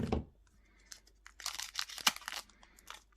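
A close plastic booster pack being snipped open with scissors and torn, with crinkling rustles and short sharp cuts in quick bursts, no talking.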